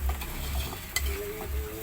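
Fresh tomatoes tumble into chicken already sizzling in a pan for kinamatisang manok, bringing a steady frying hiss with soft stirring scrapes and a brief clatter near the middle.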